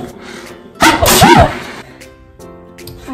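A person lets out a single loud, sharp sneeze near the middle, close to the microphone, with quieter household noises before and after.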